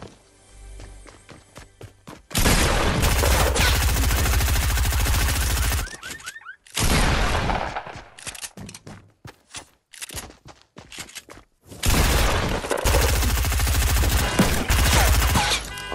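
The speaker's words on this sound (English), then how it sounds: "I miss so many shots, but I hit those sometimes. Who shot that?" Video game gunfire in three loud bursts of rapid automatic shots separated by quieter gaps with scattered single shots and footsteps, close and dense.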